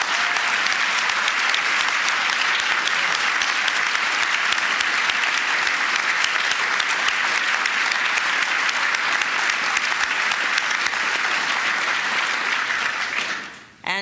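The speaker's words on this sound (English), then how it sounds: "Can we please applaud our Secretary?" Sustained, loud applause from a luncheon audience at a State Department event honoring the Australian Prime Minister, steady dense clapping filling nearly the whole span before dropping off abruptly at the end.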